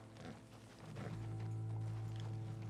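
Horse hooves clip-clop in Red Dead Redemption 2, a short run of soft walking steps over a low ambient hum, faint and without talk.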